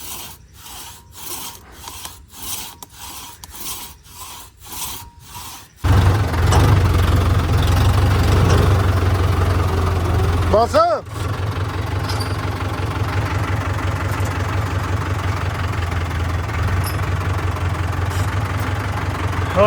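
A tractor idling beside a riverbank embankment in Punjab, a choppy rasping rumble at first that settles into a louder, steady engine drone close by, with no voices.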